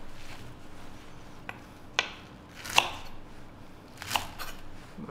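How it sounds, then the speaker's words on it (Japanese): A knife cuts garlic chives (nira) on a cutting board while preparing mapo tofu, giving a few sparse, distinct chops at uneven intervals over a low, steady room hum. "芯の方をちょっと細めに切ってあげて"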